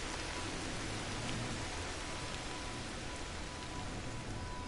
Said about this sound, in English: That should hopefully get rid of this rain.